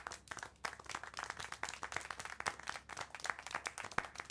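Clapping in the video game Syberia: The World Before, a fast and fairly steady stream of sharp hand claps from a small group, faint and continuous throughout.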